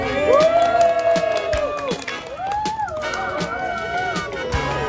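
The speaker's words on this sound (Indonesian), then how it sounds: "Beri tepuk tangan." Group at a human-resources team-dynamics training session cheering and whooping loudly with scattered clapping, excited voices shouting over one another throughout.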